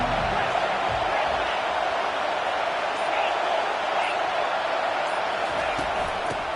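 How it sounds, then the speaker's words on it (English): Dense stadium crowd at a Texas football game, a steady broad roar of cheering and noise filling the whole stretch, loud and continuous with no pauses. "This crowd trying to show them what it's going to be like all day in this house."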